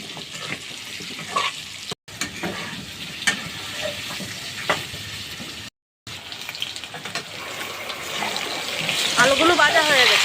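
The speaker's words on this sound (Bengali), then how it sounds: "এখন কড়াইতে নাড়াচাড়া করে ভেজে নিলাম।" Turmeric-coated potatoes sizzle and fry in leftover fish oil in a wok and are stirred with scraping strokes, the frying growing louder toward the end, with some talk in the background.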